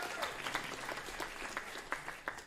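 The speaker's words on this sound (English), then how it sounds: "give yourselves a round of applause" A short burst of applause from a mayoral candidate forum audience, dense overlapping claps at moderate distance, steady throughout.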